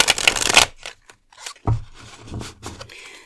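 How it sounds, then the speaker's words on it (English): Tarot cards shuffled by hand, giving a dense riffling burst up front followed by softer, scattered slides and taps of the cards, close and fairly quiet, with no talking. "And shuffling your cards."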